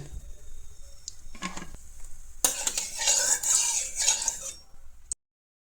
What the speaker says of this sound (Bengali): পেঁয়াজগুলো একটু ভাজা ভাজা হবে